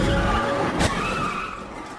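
A car skids and loses control before being struck by a truck in a crash that ends in a rollover: a loud, sustained skid with a sharp broadband hit near the middle, then a rough grinding tail.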